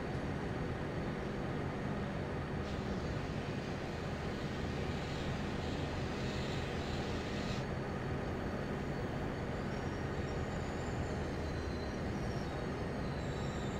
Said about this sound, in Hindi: तब तक आप लोग इस एक्सप्रेस का अराइवल देखिए जो हम लोग के लेफ्ट साइड में अराइव करी प्लेटफॉर्म 1 पर।